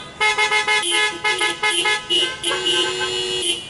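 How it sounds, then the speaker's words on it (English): Several car horns honk in quick overlapping bursts at a drive-in Shabbat service, loud and close, some short toots and some longer blasts sounding together. "If you can hear, go ahead and honk."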